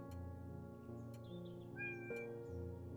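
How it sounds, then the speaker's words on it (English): A female cat meows repeatedly at close range, a few short, tonal cries spread across a few seconds with no talk over them. "I don't know if you guys can hear her, but she keeps meowing."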